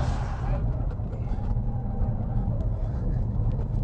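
A Cadillac CTS-V Wagon's engine roars at full throttle on the Nürburgring, a loud, sustained low drone heard from inside the car, steady throughout with a brief shift in tone near the start.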